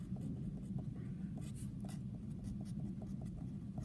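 Hand-writing a polynomial with a pen on a worksheet, soft continuous scratching strokes with small taps, close and quiet over a low background hum.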